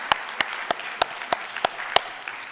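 A church congregation claps in steady unison during a service, giving about eight crisp, evenly spaced claps in a regular rhythm.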